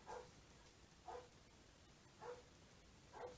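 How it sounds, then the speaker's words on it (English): A dog barks outside, four single barks spaced about a second apart, faint and distant against a quiet indoor background. "Somebody's barking outside"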